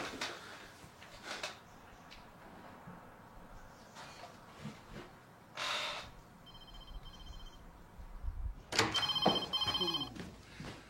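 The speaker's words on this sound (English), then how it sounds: "Why aren't you answering the phone?" A telephone rings unanswered indoors in several separate bursts with quiet gaps between them, the last ring louder and longer, against faint room noise.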